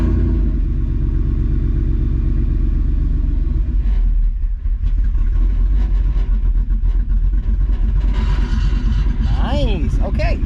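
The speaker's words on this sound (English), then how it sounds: "It's gonna turn on with the Kamloops idle tune." A Ford F-150 pickup truck with a Kamloops idle tune starts up and settles into a loud, steady, lumpy idle that rumbles throughout, with brief higher whines near the end.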